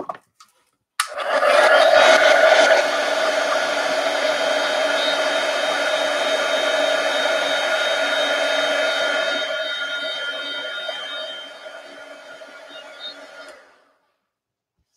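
A hair dryer switches on and blows steadily for about twelve seconds to dry ink on journal pages, a loud close whirring drone with a whine, easing slightly before it cuts off.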